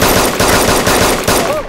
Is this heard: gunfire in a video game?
yes